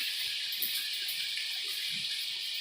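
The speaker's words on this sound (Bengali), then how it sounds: "বাইরে বৃষ্টি হচ্ছে দেখাচ্ছি তার এই দেখো এখন একটুখানি আকাশটা একটু পরিষ্কার হয়েছে আর টিপটি টিপটি টিপটি করে পড়ছে" Light drizzle falls outside as a steady, soft, even hiss that carries on without pause throughout, faint and uniform.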